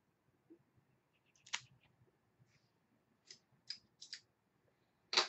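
A few sharp snipping clicks from a cutter taking the cap off an OPK Battleground cigar with a dark Maduro wrapper, close and quiet, spaced irregularly over a near-silent room.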